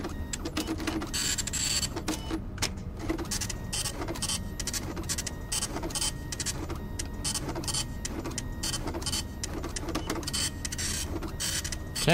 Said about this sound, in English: God, this printer takes forever.